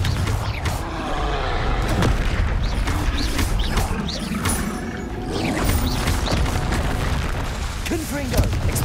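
Confringo fire spells blasting in Hogwarts Legacy combat: a dense, loud wash of repeated bursts, booms and crackling impacts over a busy battle din, with a voice speaking at points.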